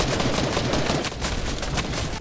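Rapid gunfire from a Fortnite firefight, a dense continuous burst of shots filling the whole stretch at close range with no talk over it.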